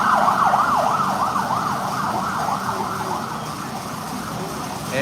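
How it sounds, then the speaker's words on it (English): An ambulance siren wails in a steady up-and-down sweep, moderately loud over a low rumble of passing traffic, with no talking. "Ambulance."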